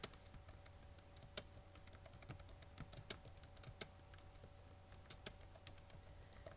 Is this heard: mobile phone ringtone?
no